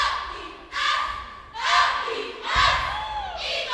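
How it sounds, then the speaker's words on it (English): Crowd cheering at a competitive cheerleading semifinal, with loud waves of shouting and whooping rising and falling in repeated bursts and echoing in a large hall. "Crowd's giving them a lot of energy."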